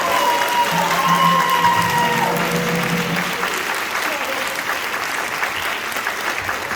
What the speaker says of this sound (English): Everyone give a big round of applause to Russell.